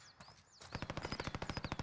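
Rapid automatic gunfire in the video game Call of Duty Warzone, a steady burst of sharp repeated shots after a quieter start, fairly close and continuous.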